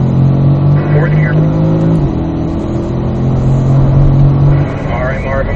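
Corvette engine on a racetrack pulling hard in fourth gear, a steady loud mid-pitched drone that climbs slightly, with a brief shift dip near two seconds and a voice talking over it.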